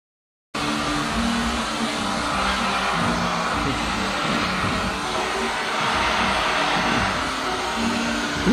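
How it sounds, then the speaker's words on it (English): A vacuum cleaner is run over a pet named Hannah for grooming, a steady loud motor roar that starts abruptly and holds throughout, with faint shifts as the nozzle moves. "Hannah likes to be vacuumed."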